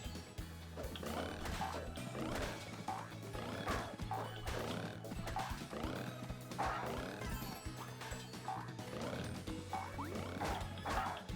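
Toad enemies in the video game Monster Boy give a continuous chorus of loud, rhythmic croaks that repeat steadily alongside game music, with no talk heard.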